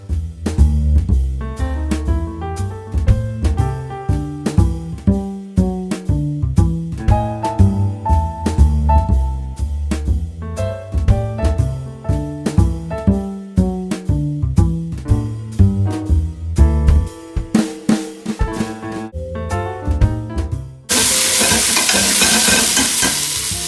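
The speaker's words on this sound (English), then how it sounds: "So all we got to do is cook off the meatballs." Meatballs frying in oil in a pan, with tonal music playing for most of the stretch before a loud, steady sizzle takes over near the end.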